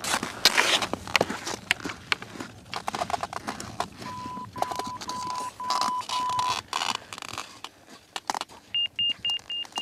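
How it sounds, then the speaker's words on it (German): Avalanche transceiver performing an LVS group check on an alpine ascent, giving short repeated electronic beeps in a steady series, set against rustling movement, clatter and outdoor ambience. "Der Piepston gibt das Okay zum weiteren Aufstieg."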